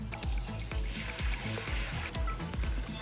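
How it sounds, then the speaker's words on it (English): Regular water pours quietly into an ultrasonic cleaner tank, a faint, steady splashing with a rhythmic pulse throughout. "fill up the rest of the ultrasonic cleaner tank with regular water"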